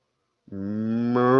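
A woman imitates a cow's moo with her voice, one sustained, rising, nasal lowing call that starts abruptly and swells louder toward the end, close and alone.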